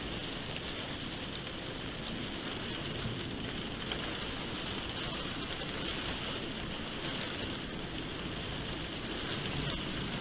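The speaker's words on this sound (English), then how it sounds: "we're going to be absolutely chucked down with rain" Heavy rain pours steadily during an unusual January thunderstorm in the UK, a dense unbroken hiss of drops hammering surfaces close by with no voices.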